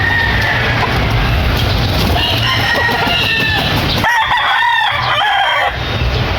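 A gray-bloodline gamecock rooster crows loudly and close by in a backyard, a strained, drawn-out call with cackling harmonics, with other fowl sounds around it and no talking.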